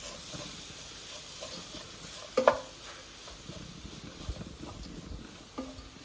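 Ingredients for a prawn biryani being sautéed in coconut oil in a pan, giving a steady low sizzle with occasional stirring scrapes and one sharper clatter near the middle, fairly quiet throughout.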